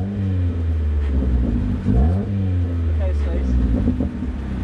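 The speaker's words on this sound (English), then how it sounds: "I'm just gonna give it a rev basically." Ford Fiesta with an aftermarket exhaust revving, a deep droning exhaust note rising and falling through a couple of blips, close by, with people talking over it.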